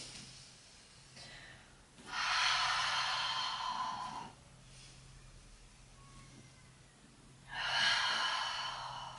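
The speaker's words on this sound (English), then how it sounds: "take some big deep breaths in and exhales out" Two slow, deep exhalations rush out audibly during a yoga workout, each lasting a couple of seconds with quieter breathing in between, close and soft.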